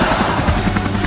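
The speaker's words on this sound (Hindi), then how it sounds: "हम इतने बड़े हेलीकॉप्टर से उड़ रहे हैं" A big cartoon helicopter in flight makes a loud, steady rotor whir with a thick rumbling chop that fills the whole moment.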